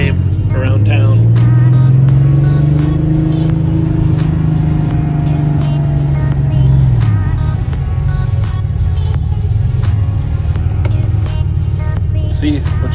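A Porsche 911 Carrera Targa with a manual gearbox drives close by, its engine droning loudly, with a pitch that rises and then drops as the car shifts, and speech faintly under the engine noise.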